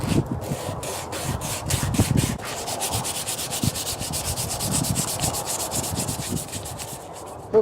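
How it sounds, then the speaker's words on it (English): Bushcraft knife handle being sanded with 320 grit sandpaper while clamped in a vise, close, rhythmic rasping back-and-forth strokes, rapid at first and then steady and continuous. "now it's time for the 320 sandpaper"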